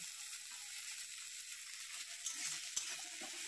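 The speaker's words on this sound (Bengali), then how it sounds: "তেলটা আমার কেটে গেছে, এখানে আমি দিয়ে দেবো পেঁয়াজ কুচিগুলোকে" Chopped onions frying in hot oil, a soft, steady sizzle that stays fairly quiet, with a couple of light clicks and stirring sounds near the end.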